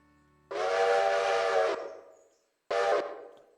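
A steam locomotive whistle sounds in the railroad simulation Railroader, with a long, loud, breathy blast of over a second, then a pause and a second shorter blast, each cutting off into fading hiss.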